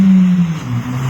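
A Ford Fiesta ST engine revs up close, a loud, throaty drone that dips and climbs again in a brief burst.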